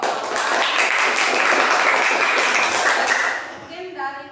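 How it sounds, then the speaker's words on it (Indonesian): A group of people claps steadily for a presenting team, a dense, sustained round of applause that fades out near the end as a voice begins to speak. "tepuk tangan dulu buat kelompok"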